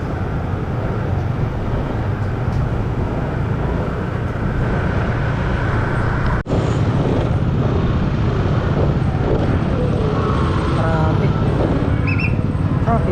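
Steady, dense roadway noise from cars, buses and motorbikes in a traffic jam, a loud continuous rumble with a sharp click midway and faint engine whines near the end.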